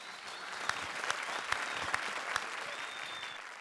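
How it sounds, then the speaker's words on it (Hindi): Steady studio audience applause at a televised comedy show, a dense wash of many hands clapping continuously at moderate volume, with a few sharper claps standing out. "तो एक बार जोरदार तालियां"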